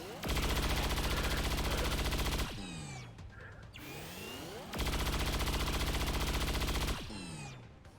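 Rapid-fire gunshots in XCOM 2 Long War of the Chosen, two sustained buzzing bursts of very fast automatic fire, each ending abruptly and followed by metallic clatter and whooshing effects.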